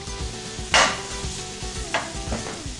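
Food frying in a pan on a stove, a steady close sizzle with occasional louder bursts of stirring, no voices.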